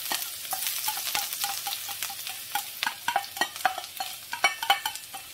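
Lots of garlic frying in oil left over from deep-frying cauliflower in a wok, a steady crackling sizzle with frequent rhythmic spatula scrapes and taps, close and fairly loud, with no talk.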